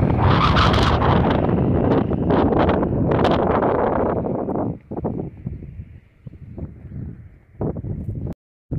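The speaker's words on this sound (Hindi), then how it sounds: "इतनी खतरनाक हवा चलती है रेत के साथ में कि पूछो मत" Strong gusty wind carrying sand roars and buffets the microphone in barren, sandy mountains near Leh at about 11,000 feet, easing into intermittent gusts partway through.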